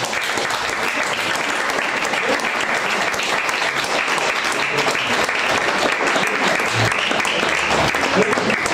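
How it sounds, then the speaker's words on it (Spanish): A crowd applauds at a public discussion event on barrier-free spaces, a dense, steady wash of clapping that lasts throughout, loud and close. "Un aplauso,"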